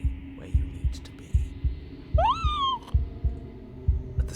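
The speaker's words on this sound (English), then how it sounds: "fleshy heart beating with an unbroken rhythm" Low, heavy heartbeat thumping in an unbroken steady rhythm in the video game Slay the Princess, over a faint hum, with a brief rising whistle-like tone partway through.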